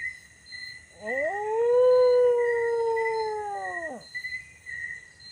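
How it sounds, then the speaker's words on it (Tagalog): A single long, mournful dog howl rises, holds steady for a few seconds, then drops away, clear against a quiet background. "Bakit tumatahol yan?"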